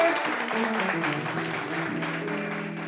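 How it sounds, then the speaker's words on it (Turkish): A studio audience applauds two young male guests on a talk show, a steady, even wash of clapping under a faint tonal background, moderately loud throughout. "Alkışlıyoruz onları."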